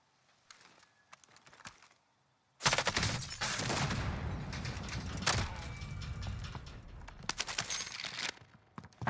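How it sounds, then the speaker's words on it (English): A sudden loud blast from a rocket fired in Call of Duty Warzone in Australia, followed by several seconds of roaring, rumbling noise that slowly thins into scattered sharp pops, after quiet clicks and taps. "He just fired the rocket"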